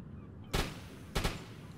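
Two short, loud bursts from an MG C-32 machine gun on a submarine deck in the video game UBOAT, each lasting about a tenth of a second, separated by a pause.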